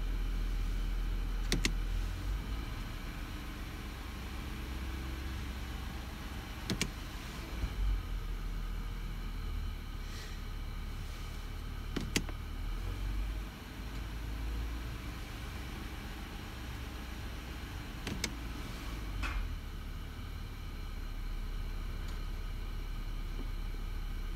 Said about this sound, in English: So you start the car and shift through all the gears.